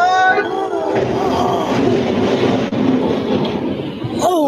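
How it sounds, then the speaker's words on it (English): A train sound effect rumbles loudly and steadily for several seconds, a clattering roar that fades toward the end, framed by short tonal sounds at the start and finish. "I see the train coming."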